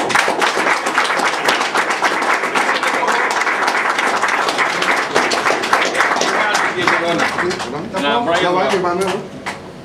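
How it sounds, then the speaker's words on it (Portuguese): An award ceremony audience breaks into dense, sustained applause, many hands clapping loudly and close, with voices mixed in before the clapping thins near the end. "Aplausos, senhor."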